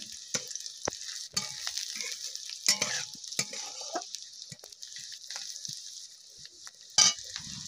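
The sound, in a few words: nigella seeds frying in a pan on low heat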